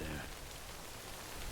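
Steady rain in the video game Death Stranding hisses as a dense, even wash of noise throughout the brief moment, with no distinct drops standing out.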